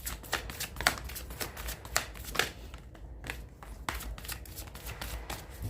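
Tarot cards being shuffled by hand, a run of quick riffling and slapping bursts in an uneven rhythm, close and fairly quiet with no voice.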